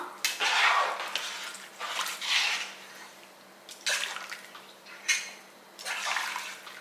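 Mutton biryani with water in a pot is stirred, giving repeated sloshing, scraping bursts of liquid and metal spaced a second or two apart, close and moderately loud, with no voices.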